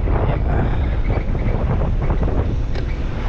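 Wind buffets the microphone while riding an e-bike, a constant loud broadband roar with no talking.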